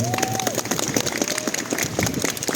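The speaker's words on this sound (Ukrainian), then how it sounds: "Я хочу, щоб ви зараз дали максимальні оплески для тих всіх хлопців і дівчат, які боронять кордони нашої держави" Crowd clapping at an outdoor Christmas celebration in Lviv, Ukraine, an ovation for the country's defenders: scattered, uneven claps from many people at moderate distance, with a faint tonal whistle or tone early on.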